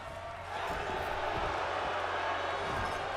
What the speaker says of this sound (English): Once again, crowd, this is awesome chants ringing out throughout the arena.